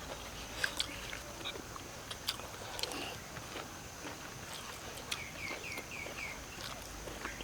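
Someone chews dry-roasted pork eggs cooked with curry, soft crunching and biting sounds close to the mic, intermittent over quiet outdoor ambience with distant birds.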